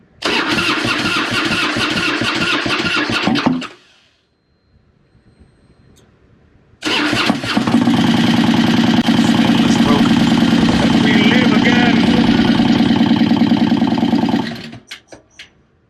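Harley-Davidson Softail motorcycle engine cranking and catching, a loud rough run that cuts out for a few seconds, then restarts and holds a steady idle before shutting off.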